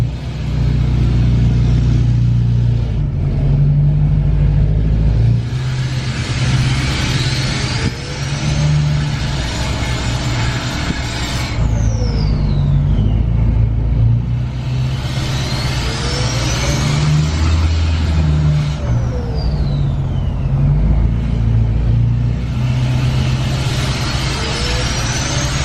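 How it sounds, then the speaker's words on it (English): A pickup truck fitted with an intake horn revs repeatedly during a test drive, each rising engine surge carrying a sweeping whistle that climbs and falls, loud and close over a steady low rumble. "I'm actually very impressed on how much whistle it added to the truck."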